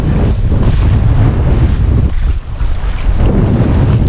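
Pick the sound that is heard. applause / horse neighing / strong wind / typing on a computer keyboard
strong wind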